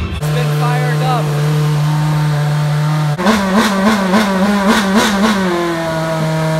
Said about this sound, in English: This is the naturally aspirated V8 from Formula 1, the legendary Renault engine.